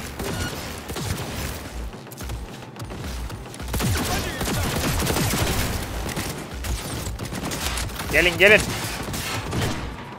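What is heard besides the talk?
turret gunfire in the video game Cyberpunk 2077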